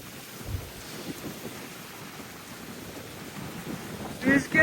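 Strong wind blowing across a seaside shore at Güzelbahçe, İzmir, a steady broad rushing roar with wind buffeting the microphone and a couple of louder gusts near the end.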